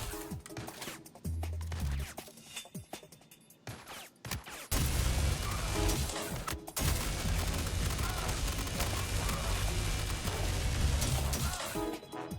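Ripper SMG fire in the shooter Star Citizen: scattered shots at first, then a sustained, dense burst of rapid automatic gunfire and impacts that runs loud and continuous to the end.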